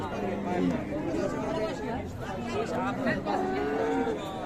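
Cattle moo repeatedly at a busy livestock market in Dinajpur, Bangladesh, long drawn-out lows rising over a constant murmur of crowd chatter and nearby talking.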